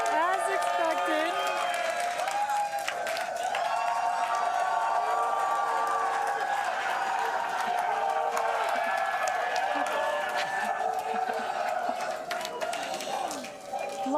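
A dense crowd cheers continuously at SpaceX Hawthorne while Starship launches. Cheers and whoops run loud and sustained throughout, with voices mixed in.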